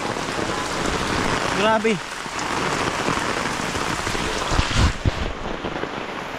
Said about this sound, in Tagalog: Tag-ulan na talaga.